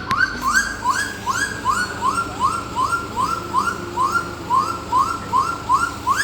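A cockatoo calls over and over, a loud rising whistled squawk repeated at an even, rapid pace for several seconds over a low background rumble.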